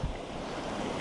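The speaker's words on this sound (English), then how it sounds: "kind of a creek running out of Cunningham Gulch here" A high-running mountain creek flowing out of Cunningham Gulch near Silverton, a steady broadband rush of water close by with no voices, lasting about a second.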